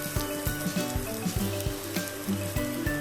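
Chopped ginger sizzles in oil in a frying pan, with a close, steady crackle broken by a regular beat of utensil strokes scraping and tapping the pan.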